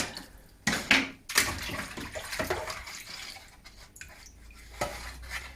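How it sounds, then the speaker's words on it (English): Plastic model kit parts of an Airfix ship being washed in soapy water: splashing, swishing water and light clinks of parts against a basin, close and irregular, without talk. "First step is to give everything a wash in soapy water, get any oil and dirt off it."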